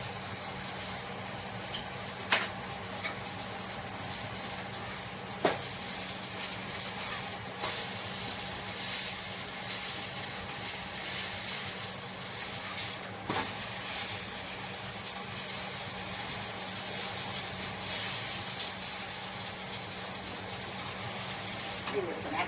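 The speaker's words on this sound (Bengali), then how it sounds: "এটা হলো এবারেতে তেল দিয়ে যেমন পরোটা ভাজি তেমনি ভাজবো।" Paratha frying in oil in a pan, a steady soft sizzle and hiss that runs the whole way through with a few faint clicks, close and moderately quiet.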